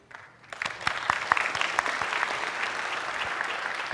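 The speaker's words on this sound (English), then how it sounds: "Round of applause, I think." Conference session audience breaking into applause: a few scattered claps quickly build into steady, moderately loud clapping that continues to the end, with little talk.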